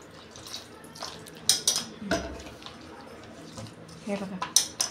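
Water poured into rava batter in a kitchen, heard as a few splashy pours and drips with clinks of a utensil against a bowl, close by, under intermittent talking.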